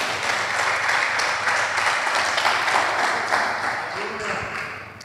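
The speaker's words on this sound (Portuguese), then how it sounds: "aplauda o Senhor por isso" A church congregation applauds during a sermon, a broad steady wash of clapping that holds level throughout and thins slightly toward the end.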